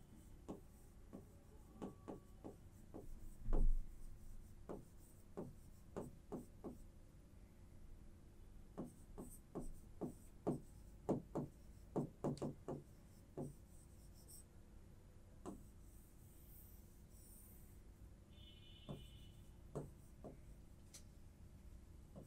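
Pen writing on paper during a Bangla lesson, a string of short scratchy strokes in bursts, near and fairly quiet, with no talk over it.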